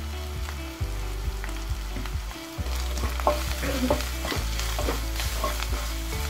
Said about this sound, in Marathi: चांगला हलवून आपण घेणार आहोत हे व्यवस्थित फ्राय करायचं आहे